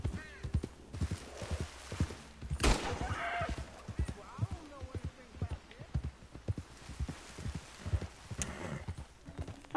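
Horse hooves clip-clop at a quick, steady pace in the Wild West video game Red Dead Redemption, with occasional sharp cracks and a brief whinny, under some faint talking.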